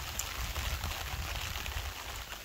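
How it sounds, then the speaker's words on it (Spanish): Rain falling in an apple orchard in Canada, a faint steady patter and hiss of drops on leaves and ground, continuous and even throughout. "Está lloviendo ahora mismo"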